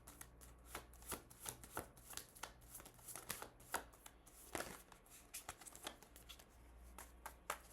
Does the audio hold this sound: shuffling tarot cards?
yes